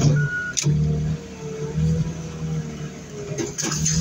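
A John Deere tractor engine drones loudly and steadily while crushing, with a beep early on and a couple of clanking knocks near the end.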